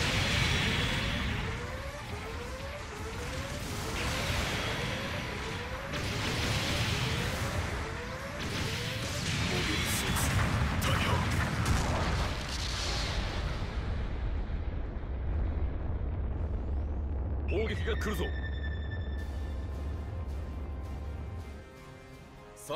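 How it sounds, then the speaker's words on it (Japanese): Artillery bombardment in a video game: heavy, sustained explosions and rumbling blasts layered with whooshing incoming shells, loud throughout, then tapering off as a ringing alarm-like tone and low drone take over near the end. "砲撃が来るぞ。"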